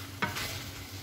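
Chicken wings cooking for a chicken and potato curry get a quick stir in a sizzling pan, two short scraping strokes over a soft hiss, close and brief.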